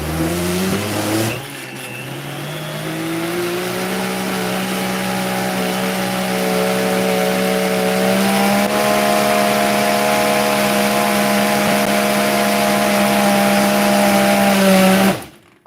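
A blender whirs steadily at high speed while blending a drink with sesame seeds, a loud constant motor whine that starts abruptly, holds for about fourteen seconds and then cuts off.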